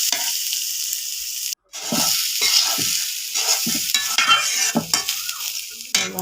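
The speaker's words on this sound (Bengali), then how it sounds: "ভালো করে একদম নেড়ে ছেড়ে ডালগুলোকে ভালোভাবে ভেজে নেব।" Lentils stirred and fried in oil in a pan, a constant sizzle broken by repeated scraping strokes of a spoon against the metal, with one brief dropout near the start.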